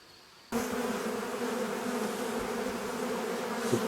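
A dense, steady drone of honeybees swarms around beehives in a garden apiary, close and loud, starting abruptly and holding an unbroken buzzing hum throughout.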